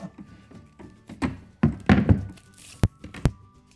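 Muffled crunching and thudding from a Cuttlebug die-cutting machine pressing an embossing folder, ending in two sharp, loud cracks close together near the end.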